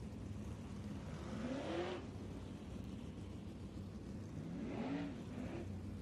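A 360 sprint car circles the track at East Bay Raceway Park, its engine swelling and fading in two passes over a constant loud motor drone, with no talk.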